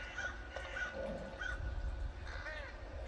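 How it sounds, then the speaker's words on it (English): Crows caw repeatedly in short harsh bursts throughout, moderately loud over a steady low background rumble, as a Halloween scarecrow decoration effect. "He does give these crows something to think about"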